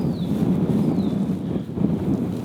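Wind blows steadily outdoors while a wild turkey is being cleaned, a continuous low rushing buffet against the microphone with no talk.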